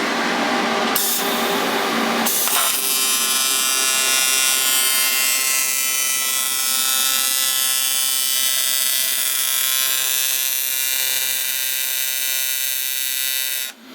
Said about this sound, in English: We got Rich over here working the welder